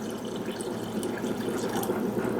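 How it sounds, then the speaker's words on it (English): Hot tap water runs steadily from a faucet into a crock pot for cooking cowboy beans, a close, continuous splashing fill with no voices. "And here's some hot tap water."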